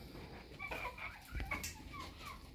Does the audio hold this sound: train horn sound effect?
no